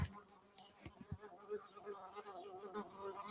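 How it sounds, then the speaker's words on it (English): A single large bee buzzes inside a small shed, its drone rising and falling as it circles close to the listener, with faint knocks and thuds in between. "a giant fucking bee flew into the man shed that I was live streaming from"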